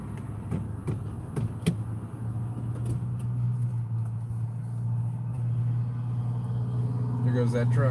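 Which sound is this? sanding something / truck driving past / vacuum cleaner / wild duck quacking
truck driving past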